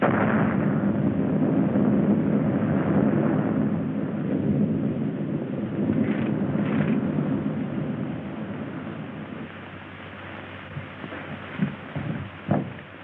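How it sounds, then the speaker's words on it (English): A wartime-style explosion effect for a radio drama: a long, heavy low rumble that swells at the start and slowly decays over several seconds, with a few sharp pops and crackles toward the end. "There's been an explosion, sir."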